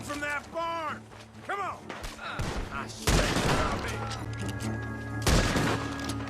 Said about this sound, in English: Gunshots are coming